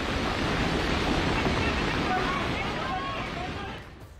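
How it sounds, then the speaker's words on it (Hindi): Fast-flowing floodwater rushes through a stream during heavy rain in Uttarakhand, a loud, steady broadband roar of churning water that holds constant before easing off near the end. "ये एक ऐसा इलाका जहां पानी का तेज बहाव आ रहा है"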